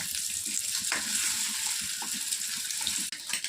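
Eggs and carrots fry in a pan with a steady, close, continuous sizzle and hiss, and a brief break near the end.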